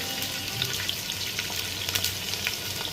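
Onions and green chillies sizzle in hot oil in a pan for chicken pulao, a steady close crackle with scattered sharp pops and spits, no voices.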